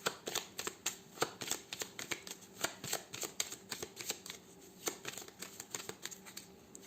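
A 32-card deck is shuffled by hand for a card reading, giving a close run of crisp riffling snaps and soft card slaps in an uneven but steady rhythm, with no voices.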